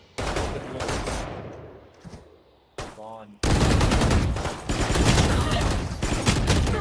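Dense gunfire from a Valorant match, with bursts of rapid automatic fire and single shots layered close together, loud and nearly continuous, with a brief lull before the shooting resumes at full intensity.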